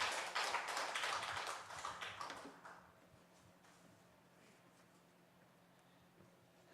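A church congregation at a Wednesday service claps together in praise, a loud burst of many hands lasting a couple of seconds, then fading to a quiet room.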